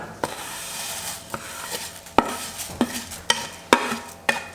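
A spoon stirs fried semiya vermicelli into boiling milk in a pot for payasam, making a series of sharp scraping knocks against the pot over a soft bubbling background, about eight strokes at an uneven pace.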